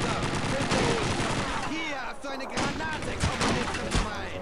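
Dense bursts of video-game gunfire from Call of Duty 2, rapid automatic shots and sharp cracks throughout, with a voice speaking over the battle noise.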